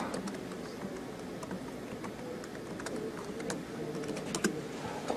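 Fingers typing a password on a computer keyboard in a classroom, a steady patter of quick key clicks running throughout at close range with no talking.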